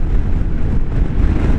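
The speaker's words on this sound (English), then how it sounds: "Ooh, the wind." Wind at a lake buffets the microphone in a steady, loud, low roar that rumbles continuously without a break.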